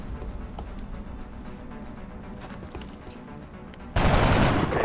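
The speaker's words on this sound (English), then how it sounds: "Thank goodness somebody can actually shoot a gun." Rapid automatic gunfire from the XCOM Enemy Within video game, a dense sustained volley of shots that swells into a louder, heavier burst near the end, with no talking.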